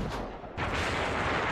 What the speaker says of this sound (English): we heard cannons land right next to where we were